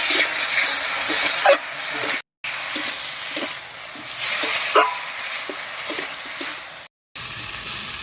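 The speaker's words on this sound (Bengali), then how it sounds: "এবারে মশলা বাটা জল দিয়ে ভালো করে কষিয়ে নেব" Spice paste and water sizzle and hiss in a village cooking pan with potatoes, ginger, chili and cumin paste, a steady loud fry broken by short stirring scrapes and two brief gaps.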